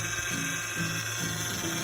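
A car with low power steering fluid gives off a steady, harsh whirring whine like a drill, loud and continuous with a slight pulsing wobble.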